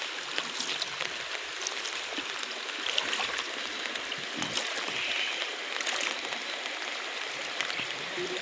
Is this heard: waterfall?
yes